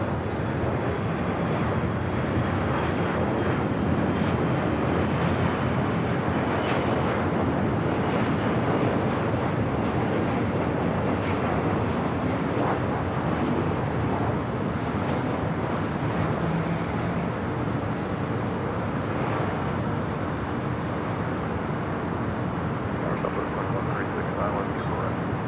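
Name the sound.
WestJet Boeing 737-800 arriving at LAX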